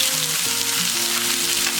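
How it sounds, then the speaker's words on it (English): Boneless, skinless chicken thighs with no seasoning sizzle steadily in a frying pan, a loud continuous hiss with faint tonal sounds in the background. "And you hear that sizzle?"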